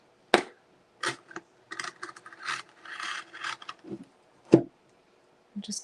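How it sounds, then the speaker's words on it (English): Scissors snip through craft material in short, crisp cuts and rasping slides, close and intermittent with pauses between strokes, a few sharper clacks standing out, no voices. "I can cut that from the other side with some scissors"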